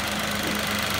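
A Ford Ka Plus engine idles steadily just after an oil change, a continuous low, even hum with a faint knocking texture and no other sounds.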